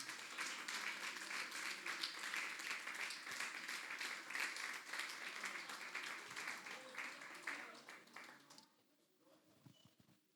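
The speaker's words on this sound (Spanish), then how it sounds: "alguien aplaude al Señor." A church congregation applauds during a sermon, a dense, steady wash of many hands clapping for about eight seconds before thinning out and fading, with the crowd sound close and fairly loud.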